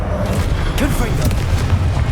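A Confringo spell explosion in the Hogwarts Legacy video game: a loud booming blast over dense game noise and music, with a shouted voice in the mix.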